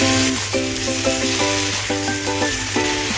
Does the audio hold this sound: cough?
no